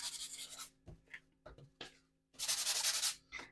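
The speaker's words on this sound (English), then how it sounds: "this is the sanding technique" Bursts of dry abrasive sanding, several short rubbing strokes followed by a longer, louder stretch of steady scraping, close by with no talking.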